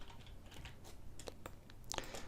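Someone types on a computer keyboard in a quick, uneven run of clicky keystrokes close to the microphone, with a few louder key taps. Nobody speaks.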